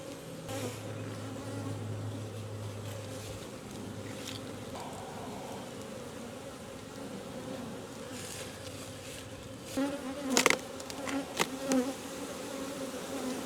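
Honeybees buzz around an open hive in a steady, droning hum close by, with a few louder passes and brief rustling bursts near the end; no one speaks.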